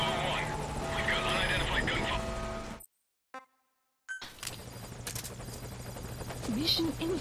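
An enemy helicopter in a video game thrums with steady rotor chop, broken by a sudden gap of near silence before it returns with voices talking over it.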